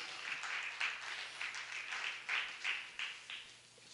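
Church congregation applauding during a Spanish-language sermon, a steady wash of many hands clapping at a moderate distance, rising and falling in small waves for about four seconds without talking over it.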